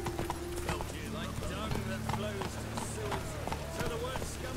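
Roach the horse galloping in The Witcher 3, with rapid clip-clop hoofbeats in a steady running rhythm, close and clear, joined by faint other game sounds and brief voices.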